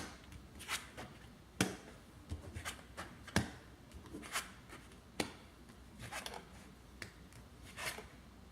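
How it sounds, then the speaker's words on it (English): Tarot cards are flipped over and laid down on a surface, producing soft close slaps and brushing swishes with a few sharper snaps scattered irregularly through the quiet. "I'm going to go ahead and flip over your cards first."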